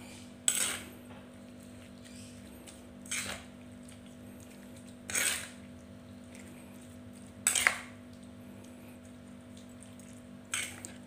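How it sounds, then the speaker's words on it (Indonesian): Rujak mixture stirred evenly in a bowl, four or five short clinking scrapes of a utensil against the dish spaced a couple of seconds apart, close and fairly quiet over a low steady hum, no voices. "ini kita mau aduk rata"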